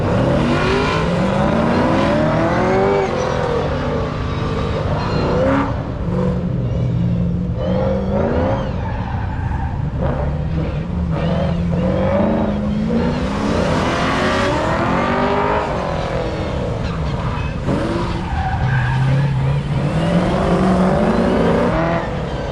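A Corvette and a Chevrolet C10 truck race at an autocross event at Beech Bend Raceway Park, engines revving and accelerating loudly and continuously, with tire noise and pitch sweeps as they work the course, no talking.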